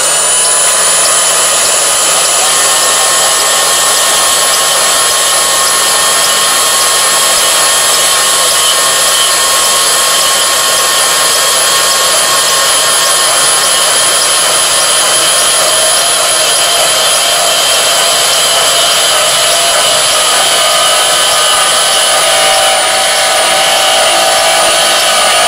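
A Milwaukee Fuel 2729 cordless band saw runs continuously at high speed with a steady, loud, high-pitched motor whine and blade hum that holds constant for the whole stretch, with no talk.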